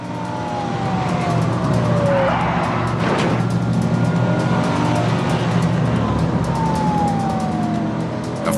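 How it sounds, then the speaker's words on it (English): A police car chases a fleeing stolen car and rams it off-road onto a woodland track, engines roaring loudly and steadily while a siren wails and sweeps throughout, with a thudding impact midway. "The cop decides enough is enough and tries ramming the fleeing car off-road onto a woodland track."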